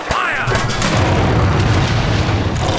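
Cannon fire from a Pirates of the Caribbean pinball video game: a dense, continuous booming rumble with crashing bursts, loud and sustained throughout with no pauses.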